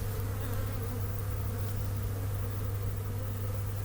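Honey bees hum inside an opened beehive during a warm February inspection, a dense, steady buzzing drone heard close and continuous with no talk.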